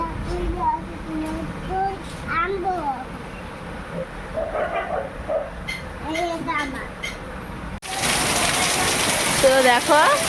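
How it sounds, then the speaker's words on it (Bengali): Heavy rain pours down outside a house. A voice talks over a soft background at first, then a loud, steady rushing downpour takes over for the final seconds. "এদিকে প্রচণ্ড বৃষ্টি হচ্ছে"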